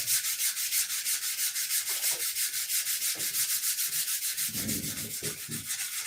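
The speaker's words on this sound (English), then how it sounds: "306A, the stuff I'm rubbing on this plastic right now." Mold sealer wax is being rubbed by hand onto a plastic surface in quick, steady back-and-forth strokes, making a close, continuous rhythmic scrubbing with no talk.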